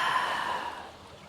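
A single deep, breathy exhale pushed out through an open mouth during a sunrise yoga session, loud at first and then fading away over about a second, with nothing else heard.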